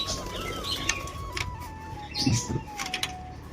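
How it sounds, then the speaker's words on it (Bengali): Pigeons stir around a rooftop loft with a brief burst of wing flapping and soft low cooing, alongside scattered faint chirps and a steady background hum; no one speaks. "সব পায়রা চলে গেছে ছাদে।"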